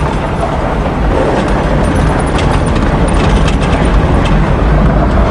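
An old taxi with a broken torsion bar sits idling, its engine giving a loud, continuous rumble close by. The low mechanical drone holds steady throughout with no pauses.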